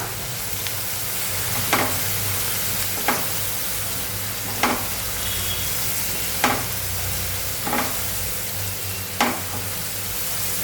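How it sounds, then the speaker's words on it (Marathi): Spices with turmeric and red chilli powder sizzle as they sauté in a pan, a steady hiss broken by regular stirring clacks roughly every second or two, close and loud, with no voices. "त्यानंतर लाल तिखट घालूया आपण आणि व्यवस्थित आता आपले मसाले परतून घेऊया"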